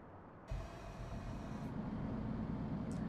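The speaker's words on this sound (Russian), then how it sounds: "А теперь заводим двигло." MAN double-decker bus engine starting in The Bus video game: a sudden start half a second in settles into a steady, monotonous low idle rumble that runs on quietly to the end.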